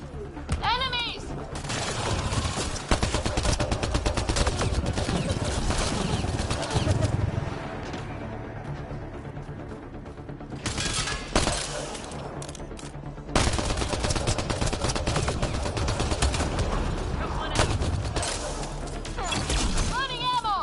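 Gunfire during a firefight in the sci-fi shooter Mass Effect Andromeda, sustained bursts of automatic shots and impacts with crashing debris, loud and close, easing off midway before heavy shooting resumes.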